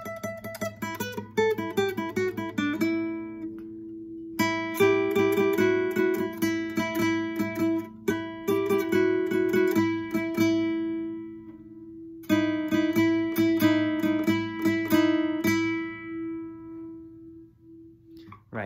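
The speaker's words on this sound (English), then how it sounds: "that's like the main riff that you hear throughout the whole entire song" Acoustic guitar playing the main riff of a song, rapid repeated picked notes with a droning low string, in close, clear phrases broken by short pauses, with no talking.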